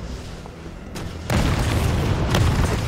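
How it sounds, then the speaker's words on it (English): A grenade launcher explosion in the video game Resident Evil on hardcore difficulty: a low boom that swells at about a second in and holds as a loud, rumbling blast with a second burst near the end. "Those grenade launchers are really fast now."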